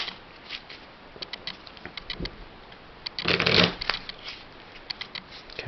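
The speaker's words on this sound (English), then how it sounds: "we'll take these 3 decks of cards and we'll shuffle them" Three decks of playing cards are shuffled, giving repeated soft riffling bursts with one louder, fuller riffle midway, close and quiet, with no talking.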